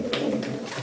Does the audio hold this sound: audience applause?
no